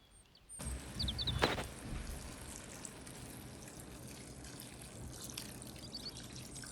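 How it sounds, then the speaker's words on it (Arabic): Boiling water is poured into a pot of chard and lentils, starting abruptly as a close splashing gush that settles into a steady, quieter stream and trickle. "وبعد هيك رح نضيف المية المغلية"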